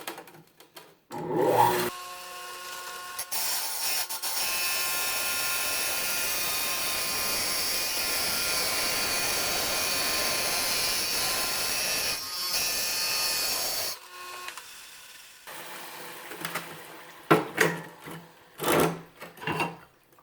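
Electric tile saw cutting the full length of a tile after notching it, a sustained loud grinding whine lasting about ten seconds, framed by brief start-up and spin-down noises and handling clatter.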